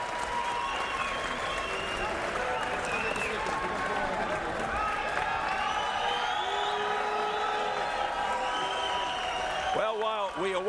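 A boxing arena crowd at the Vic Darchinyan vs Abner Mares fight roars steadily, with sustained cheering, whistles and clapping filling the hall, loud and continuous, with some voices mixed in.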